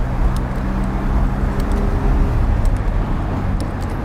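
Car traffic on an elevated road in Moscow, a steady loud roar of engines and tyres with vehicles rushing past continuously and no talking.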